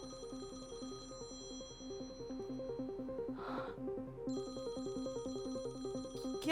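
A phone ringtone in a Hindi drama film plays in a moderately quiet room with a repeating melodic pattern, pausing briefly midway before resuming, and a short breathy noise lies over it.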